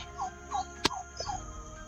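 Short repeated clucking from a white chicken, several quick notes spaced out, with a sharp click in the middle and a quiet background.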